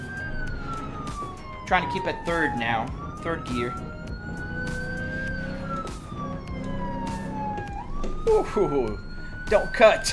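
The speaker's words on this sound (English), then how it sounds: "The siren is too loud" A wailing police siren from a driving simulator game sweeps up and down continuously, loud and prominent, while someone talks over it about gear shifts and the game's engine noise sits underneath.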